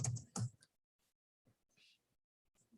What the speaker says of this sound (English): If I had a word that I was typing in